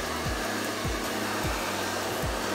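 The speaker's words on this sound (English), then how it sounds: "you gotta be careful with this hair dryer. It does get really hot." A Baby Buttercup hair dryer blows with a steady, loud airflow roar that runs through the whole stretch, pulsing slightly as it is moved, with no voices over it.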